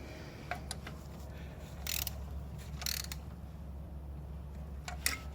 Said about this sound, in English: so I don't have to change my torque wrench. Let's just tighten these down.